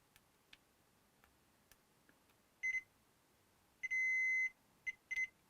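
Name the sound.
multimeter continuity test beeping on Xbox board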